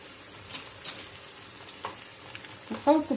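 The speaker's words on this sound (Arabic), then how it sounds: "دابا غنبداو نقليو فيهم. الزيت ديالنا سخنت" Rghaif pastries frying in hot oil give a steady low sizzle, with louder bursts of crackling near the end as more dough goes into the pan.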